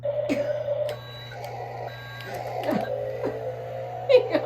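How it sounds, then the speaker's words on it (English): A small forklift gives a repeated electronic beep while backing up, close by and steady against a low hum. Brief thumps and rustles come in between the beeps. "I love how it beeps when it backs up."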